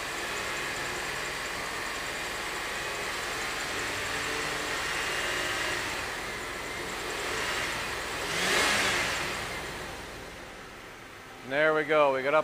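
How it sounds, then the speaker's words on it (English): Car engine revved up while the air-conditioning compressor and cooling are being checked in a heatwave, a steady mid-range engine drone that swells and peaks near the end before easing off, with a voice briefly heard at the close. "Gonna rev up the engine a bit."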